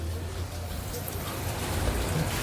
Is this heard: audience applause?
no